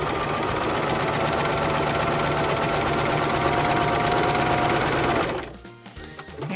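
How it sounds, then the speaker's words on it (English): A Baby Lock Zest sewing machine runs continuously, stitching a straight channel row across a quilt in a loud, even drone, then cuts off near the end, leaving a quieter pause. "We're going to go ahead and we're going to stitch to the end."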